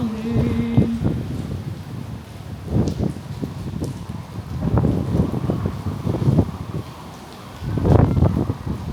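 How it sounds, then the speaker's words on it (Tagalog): Gusty typhoon wind in Boracay buffets the microphone in uneven, rumbling surges that rise and fall several times, with no voices present. "Lumakas na yung hangin. Sobrang lakas ng hangin."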